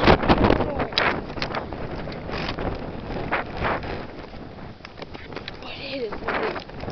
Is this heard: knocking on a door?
no